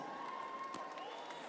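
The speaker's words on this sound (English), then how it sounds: "Just give yourselves a round of applause right now," An awards ceremony crowd claps in a faint, distant, even patter with a few scattered cheers, while a thin sustained tone hums underneath.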